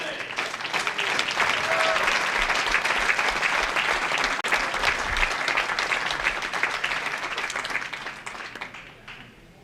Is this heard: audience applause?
yes